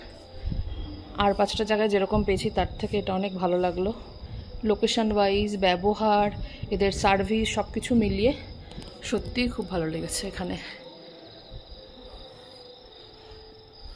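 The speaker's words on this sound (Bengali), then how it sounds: "বাইরে পুরো অন্ধকার হয়ে গেছে, ঝিঝির ডাক ছাড়া কিছুই শোনা যাচ্ছে না" At night in Lingtham village on the Silk Route, crickets chirr in a thin, steady, high drone that runs beneath a person talking and carries on faintly as the voice trails off.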